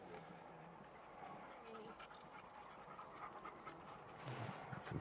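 Several dogs pant close by as they are walked along a canal path in the evening, steady quick breathing with faint footsteps, growing slightly louder toward the end, while voices murmur quietly in the background.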